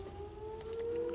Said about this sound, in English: there's our tornado sirens